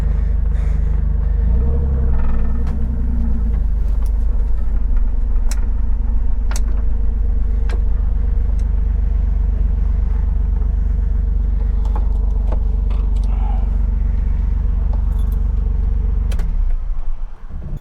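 Car engine rumbling steadily and loud at close range while the vehicle is backed down toward the water at a bass fishing launch, a continuous low drone with faint clicks, cutting off near the end.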